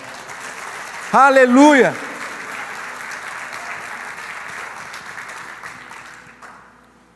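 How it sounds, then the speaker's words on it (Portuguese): A church congregation claps in sustained, even applause that fades gradually, with a loud voice calling out near the start. "Se você recebe, dê um aplauso ao Senhor."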